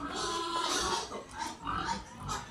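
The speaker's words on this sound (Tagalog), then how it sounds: "Tanawan ng mga baboy diha." Pigs grunting and oinking on a farm, several short rough calls in uneven bursts at moderate distance, with no talk over them.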